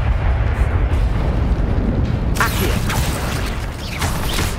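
Incendio fire spell cast in Hogwarts Legacy, a burst of whooshing, roaring flame that erupts midway over a low rumbling game background and crackles on loudly.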